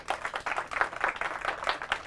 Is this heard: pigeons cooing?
no